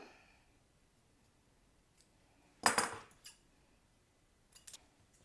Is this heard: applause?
no